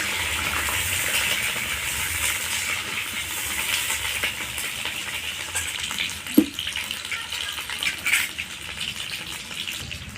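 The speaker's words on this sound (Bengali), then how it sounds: "আলুগুলোকে ভেজে নিব" Potato pieces fry in oil for a mutton curry, giving a steady, close hissing sizzle throughout. A single sharp knock is heard midway, followed by a few faint clatters.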